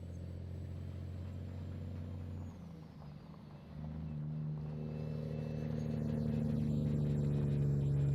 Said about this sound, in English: I just love the sound of this truck here